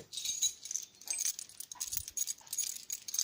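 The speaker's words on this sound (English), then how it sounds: "the sound of keys" A bunch of keys jangles and rattles in short bursts throughout, fairly close and moderately loud, with no talking over it.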